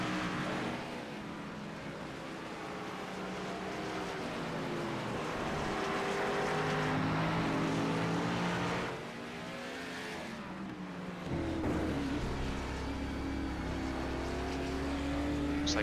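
Race cars lapping Sonoma in a sim racing game, a loud sustained engine roar that swells and drops as cars shift and pass, with a sharp cut near the end and no talk.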